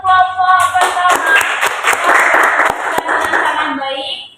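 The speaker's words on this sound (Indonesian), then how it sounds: "berikan tepuk tangan untuk kelompok pertama" Classmates in a school religious-education lesson clap for the first group, a moderate cluster of hands clapping close by, building quickly and thinning out after about four seconds, with a voice speaking briefly.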